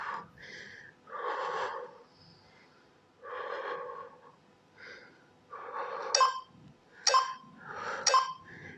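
During an intense HIIT cardio workout, forceful breathing comes in repeated rhythmic bursts of exhaling, snorting and wheezing, close and loud, with a few sharp clinks near the end.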